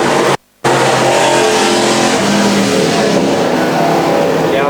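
Pro modified race cars roar around a track, a loud continuous engine drone filling the clip with a brief cut near the start.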